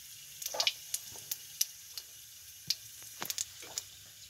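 Whole cumin and garam masala crackle in hot oil as scattered sharp pops and spits over a faint, quiet hiss.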